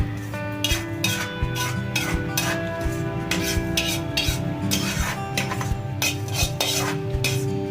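Steady metallic clinks and scraping of a spoon stirring cumin dry-roasting in a little coconut oil in a pan, while making Udupi-style sambar powder; close, continuous, rhythmic utensil contact with no speech.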